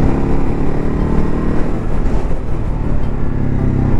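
A Ducati 950 Hypermotard motorcycle is being ridden, its engine drone steady beneath loud, continuous wind roar that buffets the whole stretch.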